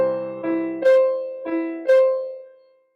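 Piano chords from a Scott Joplin ragtime lesson ring out, four struck in an uneven, alternating pattern of lower and higher voicings, close and clear, the last one left to decay.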